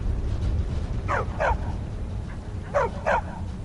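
A dog in a video game gives two pairs of sharp barks over a steady low rumble of background noise and ambience.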